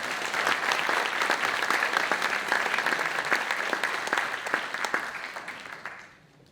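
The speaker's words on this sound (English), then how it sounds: "let's give him a big round of applause" An audience at a university public lecture event applauds the institute director, a steady, full wash of clapping that holds evenly for several seconds, then fades out toward the end.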